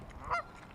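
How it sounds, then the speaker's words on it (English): Geese honk outdoors: one short nasal honk rises briefly out of faint background noise, fairly distant and quiet. "Y'all are just gonna have to put up with the geese honks"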